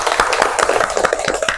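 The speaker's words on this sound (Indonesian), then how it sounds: "Tepuk tangan untuk temannya." Primary school pupils at SDN 3 Sikur clap for a classmate in their classroom: a brief burst of quick, uneven hand claps, close and lively.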